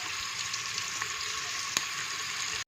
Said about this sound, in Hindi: इसको जस्ट हमने सौते करना है